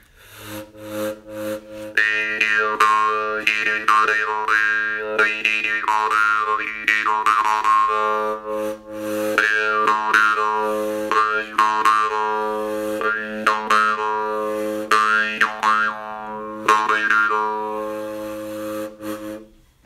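Harmonica draw notes are played in a continuous, bending melodic line of held and sliding tones with brief breaths between phrases, heard up close and loud for the whole stretch with no talking.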